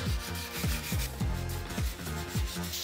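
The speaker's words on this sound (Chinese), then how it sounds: "稍微打磨一下， 再来上漆。" Sandpaper rubbed by hand along a wooden baseboard stripped of its adhesive film, giving rhythmic back-and-forth scraping strokes, about two per second, close up with no talking.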